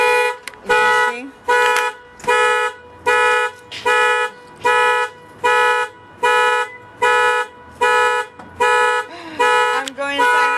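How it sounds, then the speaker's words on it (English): A car alarm blares in a steady, repeating pattern of loud electronic tones, roughly one pulse per second, with brief gaps between bursts and faint background sounds underneath. "I'm going to sign off until the blazing car alarm stops."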